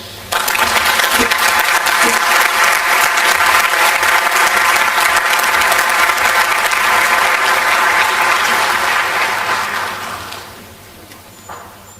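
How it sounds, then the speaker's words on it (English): A large audience at an International Atomic Energy Agency meeting applauds loudly and continuously for around ten seconds before the clapping tapers off and fades. "after the applause, which was well deserved"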